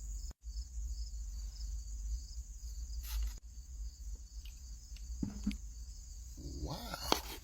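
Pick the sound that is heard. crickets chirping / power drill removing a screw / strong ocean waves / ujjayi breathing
crickets chirping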